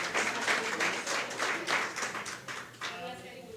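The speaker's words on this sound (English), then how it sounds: "A round of applause, please." A meeting audience gives a round of applause in a public hall, a dense patter of clapping that swells and fades over a few seconds before tapering off into a quieter tail.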